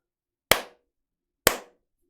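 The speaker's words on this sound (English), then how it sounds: "Just do a little of the clapping to see how bad the echo is." Two sharp single hand claps about a second apart ring out in a small stream room undergoing acoustic treatment, each followed by a short decaying echo tail, loud and isolated against silence.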